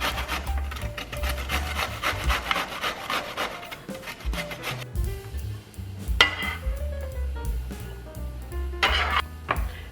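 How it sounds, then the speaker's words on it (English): Pre-washed zucchini rubbed over a kitchen grater in quick, close rasping strokes, a busy run at first that thins into scattered scrapes and light clinks. "Grate the pre-washed zucchini."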